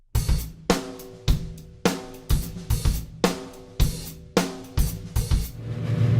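Drum kit plays a beat, started on the one: loud, close, punchy hits with kick, snare and cymbal in an uneven, off-kilter rhythm, with no talking.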